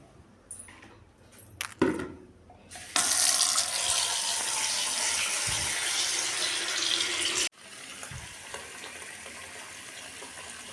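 A kitchen tap gushes water into a pot, filling it for heating on a gas stove. A few clanks come first, then a loud steady stream runs for several seconds before cutting off abruptly, followed by faint handling sounds.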